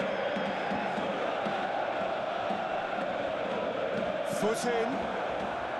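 Dense, steady crowd roar from a football stadium in a video game's Champions League match between Dortmund and Atletico Madrid, filling the scene with broad cheering and a brief whistle-like swell near the end, under a commentator's talk.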